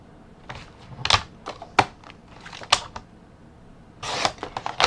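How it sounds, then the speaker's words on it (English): Paper being cut down to size for a handmade vintage-style folio album, heard as a few sharp, close crisp snips and rustles, then a denser burst of cutting near the end. "And then cut this down to 7 1/8."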